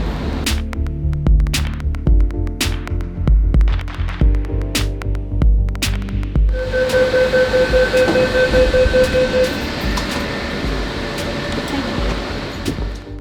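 A Hong Kong tram rolls along rails with rhythmic clunks over track joints, then settles into a steady humming ride with a high whine.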